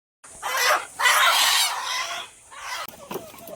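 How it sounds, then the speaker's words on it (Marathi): Desi village chickens, tied up, squawk and cluck loudly up close in several bursts, with short pauses between the agitated calls. "कोंबड्या आपण बांधून घेतलेले आहेत"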